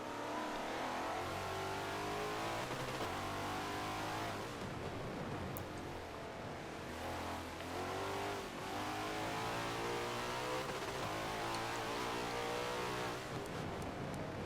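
Race cars in a sim racing endurance video game event, an 8-hour race at Indianapolis, rev and accelerate with rising and falling engine notes. The cars sound close and continuous, with repeated shifts in pitch and no talk.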